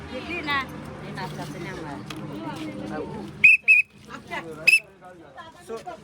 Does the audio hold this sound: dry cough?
no